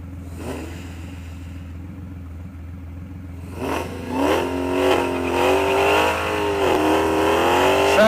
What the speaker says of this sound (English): We're going to see a killer burnout from the Hellcat.